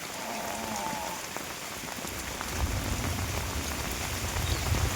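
Heavy rain pours down during a flooded spell, a dense, steady hiss of drops drumming on surfaces that swells louder halfway through, with no voices.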